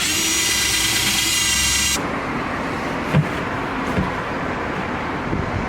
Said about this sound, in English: Drill a series of holes.